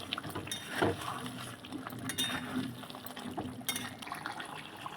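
Chicken biryani with ghee stirred in a pot, soft scraping and wet clinks of a spoon against metal, fairly quiet and close, with a faint murmur in the background.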